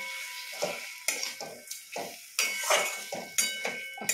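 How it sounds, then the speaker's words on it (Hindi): A spoon stirs tomato chutney with sugar and jaggery in a cooking pan, making a run of close, repeated scraping and sloshing strokes at a steady rhythm, with no talking. "और इसे अच्छी तरह से मिक्स कर लेंगे।"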